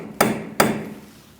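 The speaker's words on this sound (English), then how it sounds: "I'm going to unpeen the nut using a punch and a hammer." Two sharp metallic hammer strikes on a punch, unpeening the axle nut on a 2002-2006 Toyota Camry front steering knuckle, close and loud, each ringing briefly before fading.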